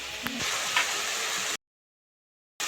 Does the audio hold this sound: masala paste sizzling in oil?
yes